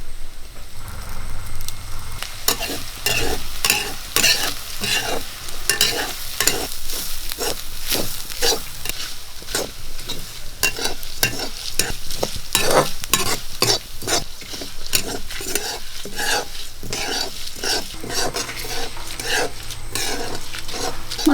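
Coconut, chilli, coriander, cumin and fenugreek sizzle and crackle in coconut oil in a hot pan while a spoon scrapes and stirs in a quick, steady rhythm throughout.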